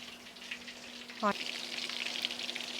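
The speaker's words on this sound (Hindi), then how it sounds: "तो बस इसको जो है ना हमने इसी तरीके से फ्राई करनी है।" Food fries for a homemade Chinese dinner, a faint, steady sizzle with a brief sharp chirp partway through.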